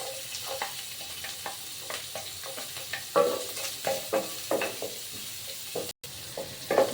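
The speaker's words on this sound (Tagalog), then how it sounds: "At magigisa tayo ng bawang." Chopped garlic sautéing in rendered pork fat in a pan, a steady close sizzle with spatula scrapes and stirring clatter throughout, moderately loud.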